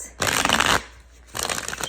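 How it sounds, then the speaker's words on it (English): Two bursts of riffle shuffling, a dense rapid flutter of cards, separated by a short quiet pause; close and fairly loud, no talking. "There's a lot of hesitancy from shuffling both decks."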